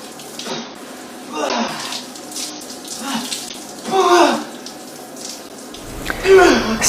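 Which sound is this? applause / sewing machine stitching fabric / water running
water running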